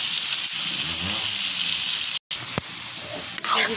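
Pork innards sauté for adobo in a hot, oily pan, giving off a steady, loud sizzle and hiss with brief stirring clatters and a momentary drop-out partway through.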